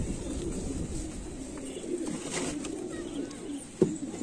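Pigeons coo softly at a loft in R.S. Pura, Jammu, low murmuring calls over a steady hum of ambient noise, with a sharp knock near the end.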